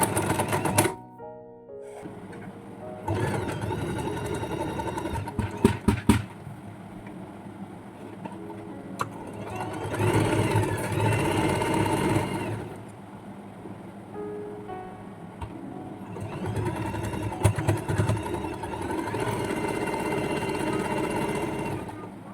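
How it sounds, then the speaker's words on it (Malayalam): A sewing machine stitches the seam of a fabric pencil pouch in several close, rapid whirring bursts, broken by short pauses. "ഒരു തല പിടിച്ചിട്ട് ഒപ്പം പിടിച്ചിട്ട് നമുക്ക് സ്റ്റിച്ച് ചെയ്യാം."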